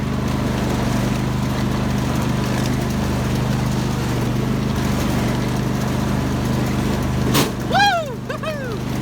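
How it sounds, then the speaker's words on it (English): A riding lawnmower engine drones steadily as the tractor is driven toward a river, a constant close rumble that continues throughout, with a brief sharp noise and voices near the end. "Drunk lawnmower driving."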